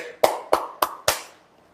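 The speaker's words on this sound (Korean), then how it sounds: "박수 좀 쳐주세요." Four distinct hand claps in a slow, even rhythm, fairly quiet and close, with no other sound, during a live three-cushion billiards lesson.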